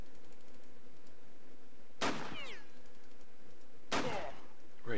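Two sharp gunshots ring out in the Jagged Alliance 2 Urban Chaos 1.13 mod, spaced about two seconds apart, each a loud crack with a short ringing tail over a quiet game background.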